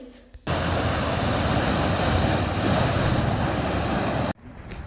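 A loud, steady rush of floodwater from torrential rain flowing in a stream beside a farm field starts abruptly, roars without pause for several seconds, then cuts off.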